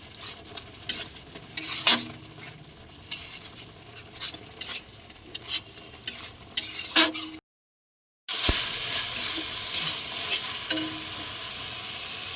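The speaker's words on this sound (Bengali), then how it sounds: "মশলাটা ভালো করে কষিয়ে নেব।" Ginger-garlic-chili paste fries in oil with coriander, turmeric and red chili powders, sizzling steadily while a spoon scrapes and stirs the pan. After a brief cut, a louder sizzle follows.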